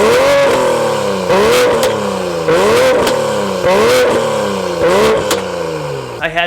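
BMW F30 with a stage 2 tune revving hard close by, its exhaust climbing repeatedly and popping and crackling with burbles on each lift-off.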